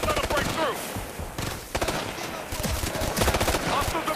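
Rapid automatic gunfire in the video game Ghost Recon Future Soldier, dense repeated bursts with short gaps, loud and close, in a busy in-game firefight.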